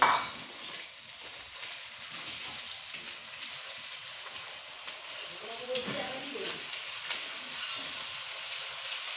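Ginger sizzling and frying in hot oil in a pan while a fish curry is prepared, a steady soft crackle throughout with a few faint stirring clinks.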